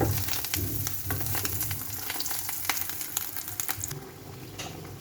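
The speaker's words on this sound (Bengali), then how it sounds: "লাল লাল করে ভেজে নামাতে হবে।" Cooked rice fries and is stirred in a pan until reddish-brown, giving a continuous close sizzle with scraping stir strokes throughout and no talking.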